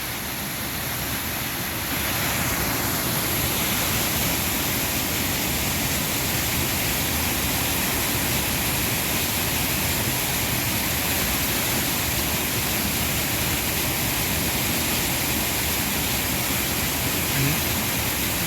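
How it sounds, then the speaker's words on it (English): River water pours over a weir in fast white-water rapids, a loud, unbroken roar that swells in after the first two seconds and then holds steady. "the amount of water that is just going over the weir."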